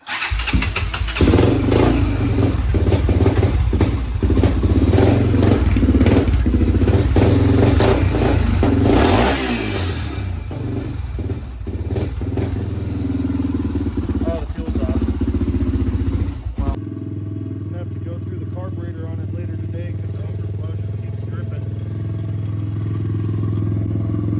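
An old dirt bike engine, one of a CRF110R, CRF150 or KTM 50, runs loud and close with a steady idle and some revving for about seventeen seconds, then cuts off, leaving a faint low hum.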